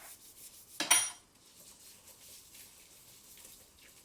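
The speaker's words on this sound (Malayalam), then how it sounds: "ആ പാത്രം മുഴുവൻ മര്യാദക്ക് കഴുകി വെക്കണേ." Dishes and pots being washed: one sharp clatter of metal cookware near the start, then a soft ongoing rubbing and scrubbing under faint water noise, close and fairly quiet.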